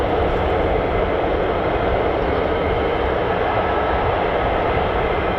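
F-35 fighter jets fly somewhere off to one side near RAF Lakenheath, a continuous broadband jet roar holding steady and fairly distant throughout with no break.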